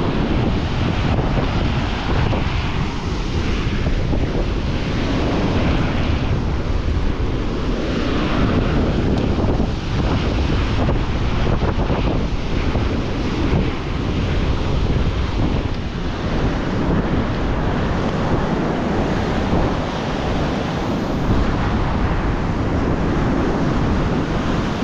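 Sea waves wash onto a beach near a seaside cottage while strong wind buffets the microphone, a loud, continuous roar of surf and gusts with no voices.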